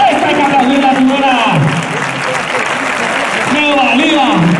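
A bullfight crowd claps steadily in the ring, a dense, continuous wash of applause that carries on under a voice talking over it throughout.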